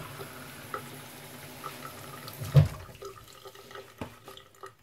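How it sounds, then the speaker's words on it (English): Water running from a kitchen tap, a soft steady flow with small splashes and a brief louder gush midway, fairly faint and close, with no talking. "All right, turn on the water."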